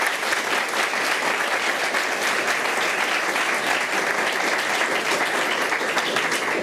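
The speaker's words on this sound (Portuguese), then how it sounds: "eu peço a todos uma salva de palmas aos 2 palestrantes" A lecture-hall audience at a law course's inaugural class gives a sustained round of applause for two speakers, thick and even clapping throughout.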